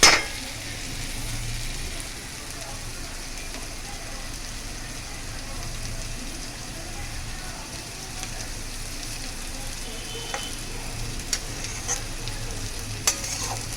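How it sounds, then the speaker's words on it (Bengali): Carrots, beans, potato, capsicum and onion frying in a pan for hakka noodles, a steady hissing sizzle throughout with occasional clinks of a spatula stirring, close and continuous. "আর এখানে গাজর, বিনস, আলু, ক্যাপসিকাম, পেঁয়াজ সব ভালো করে ভেজে নিচ্ছি"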